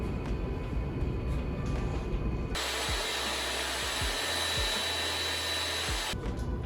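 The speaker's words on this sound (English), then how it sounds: "I'm going to use this piece of 1/8 inch plywood, oak plywood, and the first step is to rip it to the width" A saw rips a sheet of 1/8 inch oak plywood to width, a loud steady whirring cut of about three and a half seconds over a low motor hum, starting abruptly and stopping cleanly, with no talking.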